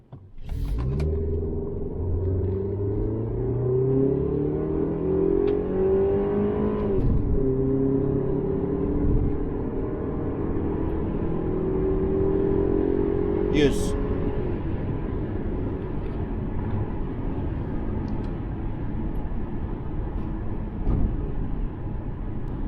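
A Kia Magentis pulls hard in a 0-100 km/h run, its engine drone rising in pitch, easing at a shift, then climbing again under a steady road rumble, with talk at times.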